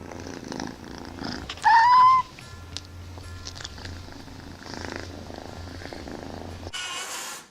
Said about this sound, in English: Cats make a sound called purring when they are happy.